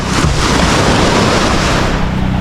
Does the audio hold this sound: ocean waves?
yes